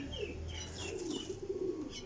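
High flyer pigeon cooing in soft, low, rolling phrases that run almost continuously, fairly close, with faint chirps from other birds and light background noise.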